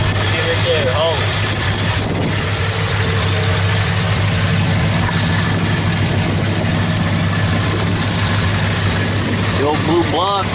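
A 1975 Ford truck engine with a Holley 4-barrel carburetor idles steadily and close, a continuous low rumble with faint higher whines drifting through it.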